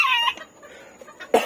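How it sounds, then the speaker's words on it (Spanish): A hen clucks close by, a short throaty call followed by a brief pause and another sharp cluck. "Aquí está la gallinita."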